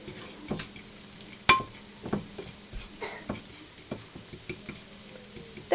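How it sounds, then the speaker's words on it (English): Flour being stirred into a mixture in a bowl with a utensil, giving a steady run of scraping strokes with occasional light clinks against the bowl and one sharp knock, close and without talk. "now I'll mix up the flour, get all that stuff nice and mixed in together"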